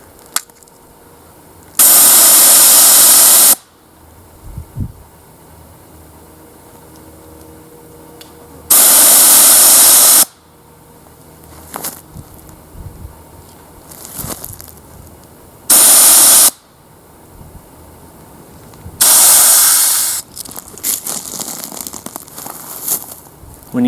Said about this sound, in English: When you do shoot your bear spray,